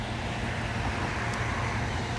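Road traffic passing beside a garden on a summer morning makes a steady, faint, broadband roar with no distinct vehicles standing out.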